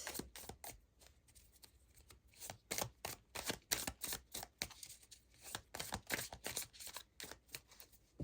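A deck of Eternal Light oracle cards is shuffled and drawn from, producing rapid riffling flutters and papery slaps in repeated close bursts with short pauses between them.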